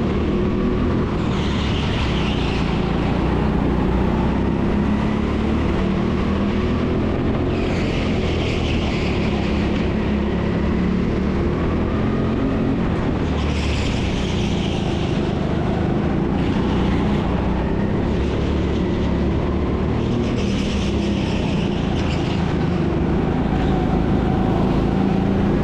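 Rental go-kart engines racing on the indoor TeamSport Sheffield track, a steady loud drone with rising and falling surges as karts pass, continuous throughout with no talk.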